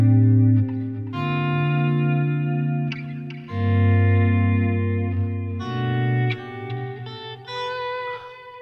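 Sustained electric guitar chords bloom and wash out in heavy reverb followed by delay, ringing loudly into one another with long tails.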